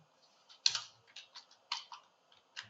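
Computer keyboard keys tapped in short irregular bursts while typing a title for a business card design, close and fairly quiet, with a few sharper clicks and brief pauses between keystrokes.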